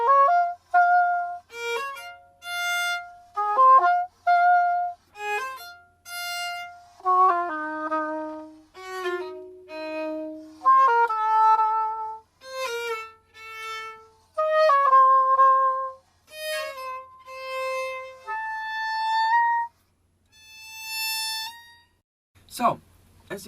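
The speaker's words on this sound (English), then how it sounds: "James, would you like to play some violin?" Solo violin improvising within a classical-music theatre improvisation game, a melodic line of separate bowed notes and short phrases with pauses between them, close and clear throughout.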